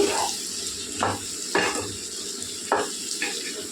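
Brinjal and potato curry cooks in oil in a pan, giving a soft continuous sizzle broken by several clattering stirs of a spoon against the vessel, close and moderately loud.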